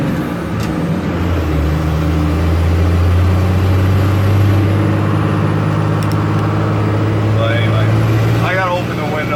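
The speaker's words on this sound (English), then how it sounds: "Ooh, this van is heavy. Go, Cummins, go." A loud, heavy Cummins diesel engine in an old van drones and strains as the vehicle accelerates, heard from inside the cab, with a low rumble throughout.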